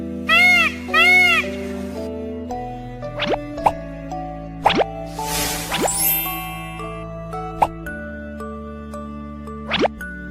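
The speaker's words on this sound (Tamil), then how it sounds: "மயில் அகவும்." A peacock gives several rising, wailing calls, spaced apart over steady background music with scattered plopping and tinkling effects.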